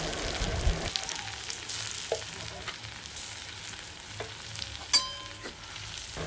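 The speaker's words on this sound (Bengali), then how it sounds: "পেঁয়াজ কাঁচা লঙ্কা টমেটোমটাকে দিয়ে দিলাম ওই তেলের মধ্যেই দিয়ে দিলাম" Onion, green chilli and tomato frying in oil in a clay pan, a soft continuous sizzle with light spoon scrapes and a sharp clink near the end, no talking.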